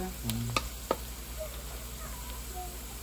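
Mussels sautéing in a pan until golden brown, a soft steady sizzle with a couple of sharp utensil clicks early on, faint and close.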